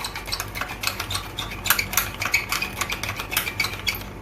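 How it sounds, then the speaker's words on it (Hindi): A spoon stirs honey into homemade BBQ sauce in a bowl, making quick repeated scraping clinks and soft wet swishes at a steady rhythm, close and without any talk. "शहद ऐड करने के बाद मैं फिर इसको अच्छे से मिक्स कर लूंगी।"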